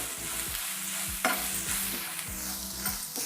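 Grated carrot fries in a pan for rava idli while a spoon stirs it, a steady close sizzle broken by soft scraping strokes against the pan, with no speech.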